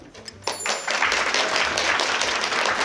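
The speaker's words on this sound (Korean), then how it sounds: "다시 한번 수고하신 저희 선생님께 박수 한 번만 더 부탁드립니다." Applause from a bookstore lecture audience for the speaker, breaking out after a brief pause and swelling into steady, dense clapping that fills the room.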